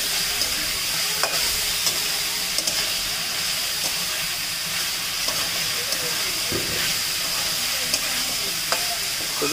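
Fried potatoes with salt and turmeric being stirred in a pan over a steady sizzle and hiss, with sharp utensil scrapes against the pan every second or two.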